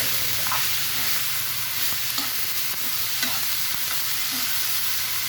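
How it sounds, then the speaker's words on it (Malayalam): Chopped hybrid pichilliga with spice powder and a pinch of salt is stirred in a hot pan for thoran, producing a loud, steady sizzle with occasional spoon scrapes against the pan. "നല്ലപോലെ ഇളക്കി കൊടുക്കുക."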